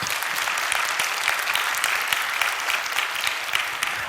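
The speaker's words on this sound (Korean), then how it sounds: "아내한테 박수 한번 해주세요" A church congregation breaks into sustained applause during a pastor's sermon, steady and full clapping that fills the whole stretch at even loudness with no talk over it.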